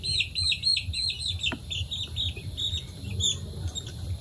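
Young chicks of a broiler parent stock, 21 days old, chirp in a dense, continuous flock of high peeping calls, with a steady low rumble underneath and no talking.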